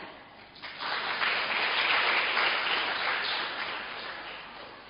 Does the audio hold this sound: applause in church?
yes